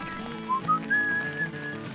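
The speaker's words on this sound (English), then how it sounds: "Yeah, I'm always caught whistling on trail." A person whistles a short rising tune while hiking a backpacking trail in the Smokies, a few clear notes close by against a soft outdoor background.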